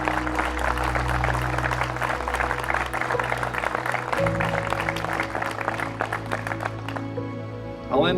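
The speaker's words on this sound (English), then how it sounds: "please join me in a round of applause to the entire Amramp team in appreciation for all your tremendous" An audience at a facility grand opening claps in a sustained round of applause, with a steady low hum underneath, and the clapping continues to the end.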